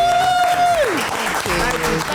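A podcast audience claps loudly in a brief burst of applause, with a voice speaking over it and a sliding electronic tone at the start.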